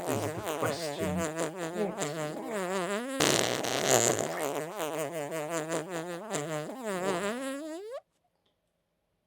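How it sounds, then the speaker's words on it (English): Fart sound effect: a long, loud, wavering series of buzzy, sputtering blasts with shifting pitch, close and continuous for about eight seconds before cutting off to silence. "farting in the theatre."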